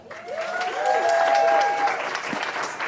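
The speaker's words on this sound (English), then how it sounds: "Let's give them an applause." An audience at a self-reliance speaking event breaks into steady applause that swells and then tapers off, with a few voices and whoops mixed in.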